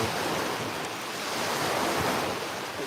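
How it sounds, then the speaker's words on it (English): Steady roar of surf and boat-wake waves washing in continuously, with wind noise across the microphone. "there's a lot more boat traffic, so you can see the waves starting to crash in"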